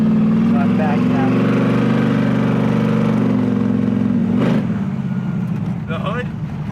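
A 1967 Camaro SS with a radical, big cam runs at a loud, steady lopey idle close by, its choppy low rumble continuous throughout, with a brief rev near the end and people talking over it.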